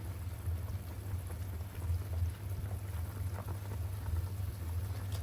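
Steady rain hisses evenly with a low rumbling undertone, continuous and fairly close, with no voices.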